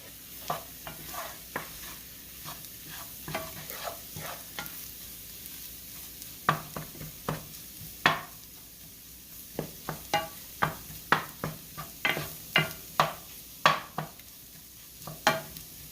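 A utensil scrapes and taps repeatedly against a pan as flour cooks for a gravy base, the strokes coming faster and louder toward the end over a soft, steady sizzle.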